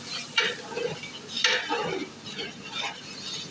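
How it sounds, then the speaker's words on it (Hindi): Tomato paste and spices for daal mash stirred in a hot pan, with scraping strokes of a spoon against the metal at irregular intervals over a light sizzle, close and moderately loud. "अभी हम इसमें जो है टमाटर पेस्ट शामिल कर देंगे। अच्छी तरह से इसकी भुनाई कर लेंगे।"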